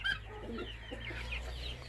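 Small chicks in a new outdoor enclosure give soft, repeated peeps and clucks, close by and moderately loud, over a steady low background hum with no talking.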